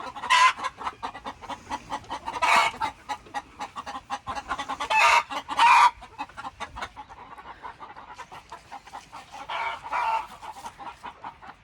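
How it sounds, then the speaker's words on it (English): Chickens cluck and squawk inside a coop, stirred up by noise from a neighboring coop; loud, close bursts of agitated clucking come in irregular clusters with brief quieter gaps, and no talking. "The noise from the other coop has kind of riled everybody up"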